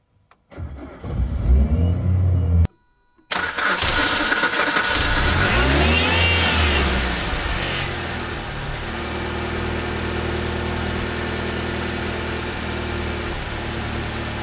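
A supercharged Suzuki Swift ZC31S cranks over, falls briefly silent after the first attempt, then catches on a second try and revs before settling into a steady, loud idle close by.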